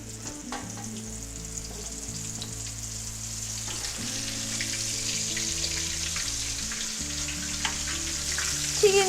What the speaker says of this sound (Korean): 기름 측정 온도는 가운데 가루를 뿌렸을 때 이렇게 바로 튀겨지면